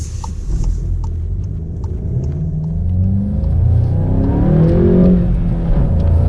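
A car engine hums close up while driving past a school, a steady low rumble that rises and swells toward the end as it speeds up, with no one speaking.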